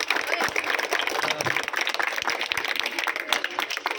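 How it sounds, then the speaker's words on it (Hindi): An audience claps in dense, continuous applause at a celebration where a cake is cut for PM Modi's birthday, with voices mixed in the background. "ताली तो बजाओ भी।"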